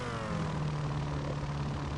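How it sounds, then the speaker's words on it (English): A helicopter flying outside a house gives a steady, loud rotor and engine drone that holds constant throughout, with no voices. "It's a helicopter outside my house."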